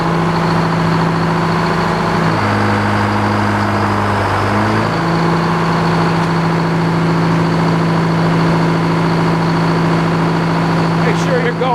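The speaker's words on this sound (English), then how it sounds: "start your engine." Sawmill engine running while sawing sticky white pine, a loud continuous low drone that shifts pitch briefly and then settles into a steady hum.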